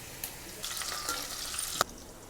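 Cumin seeds and chopped onions frying in hot oil in a pan for a spiced brinjal dish, a steady close sizzle with a brief stirring clatter near the end, no talking.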